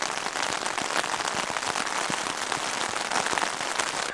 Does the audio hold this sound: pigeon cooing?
no